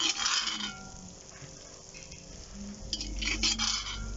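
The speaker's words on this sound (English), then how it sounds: "my onions and garlic is now nicely cooked to the bacon, so I'm going to spoon that out" A spoon scrapes and clinks against a pot while lifting out cooked onions, garlic and bacon for a chicken potjie, soft sizzling underneath and a few sharper metallic knocks near the end, with no talk.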